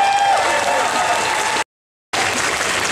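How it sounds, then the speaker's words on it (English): Audience applause at a live Family Feud-style game show at a gaming expo, dense broadband clapping with crowd noise and some voices mixed in, cutting out abruptly to silence for about half a second before resuming. "Give him a round of applause for Gnarl Boots right now."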